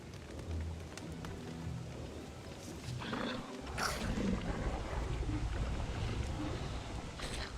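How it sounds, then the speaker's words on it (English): Rain falls in the video game Don't Starve Together as a steady hiss of pattering drops, with low rumbling ambience underneath and a soft swell partway through, no one talking. "Why is it already raining?"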